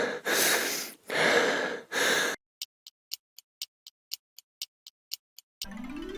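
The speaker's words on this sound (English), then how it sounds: "Panting." A person panting loudly in three heavy, rapid breath bursts up close, followed by a steady series of sharp ticks.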